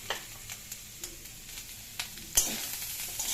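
Spices and two green chillies go into hot oil in a pan, raising a steady sizzle of frying with a few sharp clicks of stirring and a louder burst of spitting near the end.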